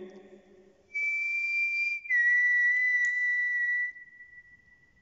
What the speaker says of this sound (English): It was like a clear whistle.